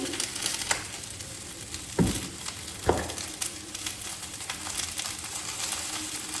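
Eggplant frying in oil: a soft, steady sizzle with occasional sharp clinks and scraping from stirring in the pan.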